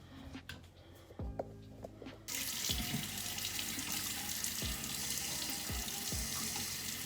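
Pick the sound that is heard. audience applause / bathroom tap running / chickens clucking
bathroom tap running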